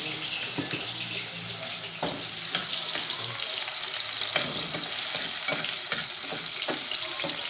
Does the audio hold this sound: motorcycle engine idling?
no